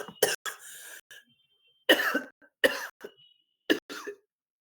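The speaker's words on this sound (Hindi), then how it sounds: "अचानक से जोर से खांसी उठ गया" Sudden loud coughing from one person, several sharp bursts in clusters separated by short silences, close to the microphone with a little throat clearing.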